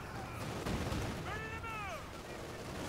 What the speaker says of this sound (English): Tried to call in the Arty. Did that fall in? Yes, it did.